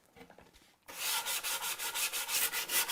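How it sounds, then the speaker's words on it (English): Hand sanding of a cabinet finish along wooden edges, a quiet stretch giving way to steady, close abrasive rubbing in repeated back-and-forth strokes of even rhythm. "If you roll the edges, you're going to sand through the finish and back into raw timber."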